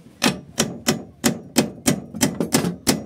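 A metal hammer strikes a hard workpiece nine times in a fairly regular rhythm of sharp, close, ringing blows with short decays between them, and no voices.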